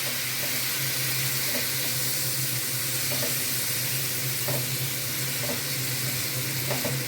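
Spices frying in a pan for an onion egg curry as water is added bit by bit, a steady close sizzle with a low hum underneath and light periodic taps of stirring.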